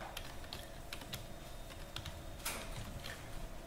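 Keystrokes on a computer keyboard as a command is typed, a steady patter of light clicks with a few sharper taps, close and alone with no talk.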